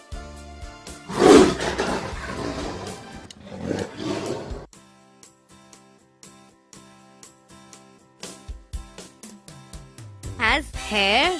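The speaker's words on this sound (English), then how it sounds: "Tiger." A tiger lets out a pair of deep, rough roars close up, each a few seconds long, then light rhythmic music takes over and a voice briefly speaks at the end.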